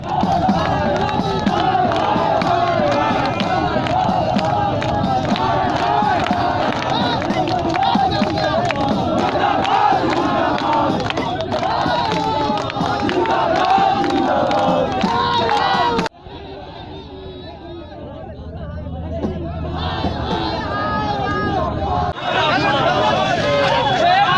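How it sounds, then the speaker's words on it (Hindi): A crowd of young protesters carrying daflis shouts slogans against the Hemant government at Tower Chowk in Giridih. Loud, dense chanting and yelling fill the scene, dip briefly into quieter murmur past the middle, then swell back up. "युवाओं की भीड़ डफली लिए हेमंत सरकार के खिलाफ नारेबाजी शुरू कर दी"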